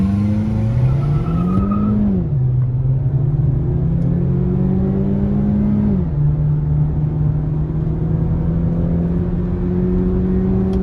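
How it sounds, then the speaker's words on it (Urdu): An MG HS SUV drives on the road, its engine droning steadily from inside the cabin with pitch rising and falling through gear changes, a continuous hum under road noise and no talk. "ابھی آپ لوگوں کو تھوڑا سا اس کی ڈرائیو لیتے ہیں and let's see how it drives"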